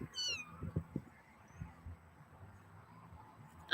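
A house cat gives a short high meow, with faint low rustling and thumps around it and a sharp squeak at the very end, all quiet and close.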